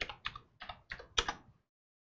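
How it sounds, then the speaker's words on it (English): Typing on a computer keyboard with one hand: five separate clusters of close, crisp key clicks spaced roughly evenly, the last burst the loudest, followed by silence. "It's fun typing one-handed."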